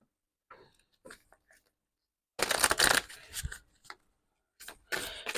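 Spirit of the Animal Oracle cards being shuffled in bursts, a loud crisp riffle in the middle and another near the end, with softer handling taps between.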